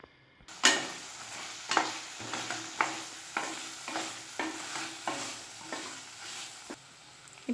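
Cut potatoes being stirred into a vegetable biryani masala in a pot, with a spoon scraping in a steady run of about a dozen distinct strokes over a soft background sizzle, close and moderately loud.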